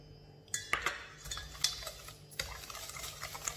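A whisk beating egg into banana bread batter in a bowl, with quick metallic clinks and scrapes against the sides, fairly close and irregular, with no talking.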